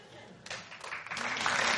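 Studio audience on a comedy panel show breaks into applause, starting sparse and building into a fuller, sustained clapping that grows louder toward the end.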